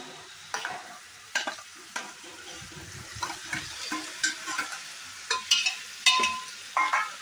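Finely chopped tomatoes sauté in butter for a tomato soup, giving a soft steady sizzle broken by repeated clinks and scrapes as a spoon stirs the pan, close and clear with no talking.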